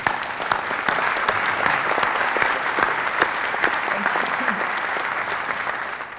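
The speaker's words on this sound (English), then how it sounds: "give her a round of applause for all the work she does" Steady, dense applause from a conference audience at the 2002 RoadPeace conference, continuous and fairly loud throughout with crisp individual claps standing out near the front.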